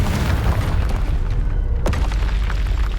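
The Confringo spell explodes during combat in the Hogwarts Legacy video game. It is a loud, dense booming blast that fills the whole clip, with a sharper crack near the end and no talking.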